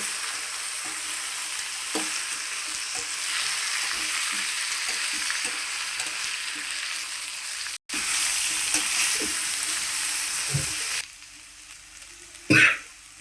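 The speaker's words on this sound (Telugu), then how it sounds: "ఈ వంకాయ ముక్కలు కూడా దోరగా యాగనివ్వాలి" Brinjal pieces hiss and sizzle in hot oil for a long stretch, with occasional spatula scrapes and taps; the sizzle drops off near the end.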